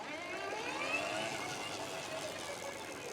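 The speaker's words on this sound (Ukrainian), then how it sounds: "Зелений індикатор включив, додаю газ, мотоцикл починає рух." An Electric Motion ePure Race 2023 electric trials motorcycle pulls away in its weakest power mode, giving a steady, faint whine of the electric motor with no engine note.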